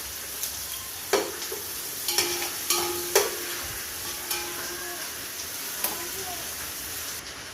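Onions frying in oil until reddish for biryani give a soft continuous sizzle, broken by several sharp clinks and scrapes of a utensil against the pan.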